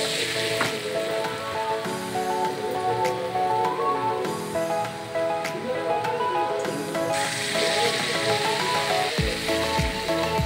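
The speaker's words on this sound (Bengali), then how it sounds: "এইখিনি তেলতে মই ভেদাইলতা পকৰিকেইটাও ভাজি দিলোঁ।" Pakora battered with skunk vine leaves frying in hot oil, a continuous loud sizzle with crackling bursts that swells and eases as pieces go in, with background music.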